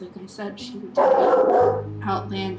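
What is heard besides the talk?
dog barking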